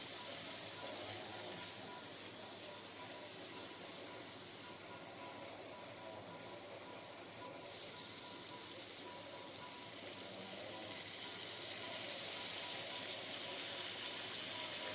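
Potatoes frying in a pan with salt and turmeric for a Bengali vegetarian squash curry: a steady, even sizzle hisses without a break, soft and close, with no talk over it.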